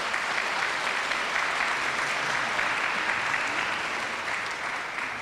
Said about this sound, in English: Brief round of applause for all the candidates today,